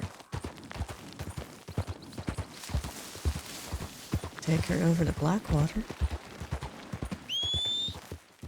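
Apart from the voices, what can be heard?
horse in Red Dead Redemption 2 video game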